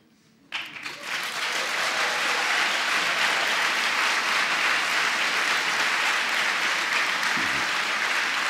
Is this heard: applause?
yes